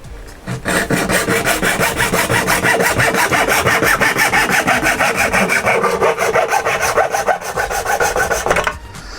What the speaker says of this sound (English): Shall I do it with junior hacksaw this time?